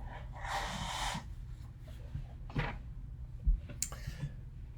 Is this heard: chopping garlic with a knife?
no